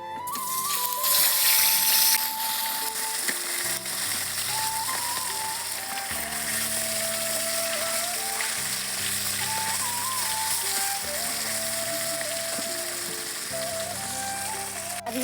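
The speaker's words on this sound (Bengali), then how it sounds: "মাছগুলো হালকা করে ভেজে নিয়েছি" Tilapia fish frying lightly in oil in a pan, a continuous crackling sizzle running underneath background music throughout.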